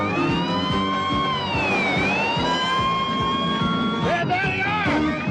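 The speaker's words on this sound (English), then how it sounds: "Hey, is that a siren I hear?" A wailing siren sweeps up and down through a dense, busy mix of engine and traffic noise, loud and close, with a second siren tone joining near the end.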